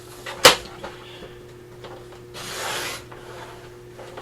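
A paper cutter trims a smidge off a grungy bee flip tag, with one sharp close snap of the blade followed by a longer soft rasping slide of the cutter across the paper.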